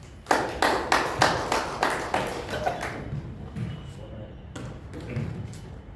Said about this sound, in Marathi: कृपया आपल्यासाठी या उपक्रमासाठी जरा टाळ्या वाजवाव्या